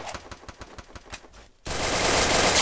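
Rapid bursts of automatic gunfire from the Free Fire battle royale mobile game, a string of sharp, evenly spaced shots that breaks off briefly before a loud, dense continuous burst fills the rest.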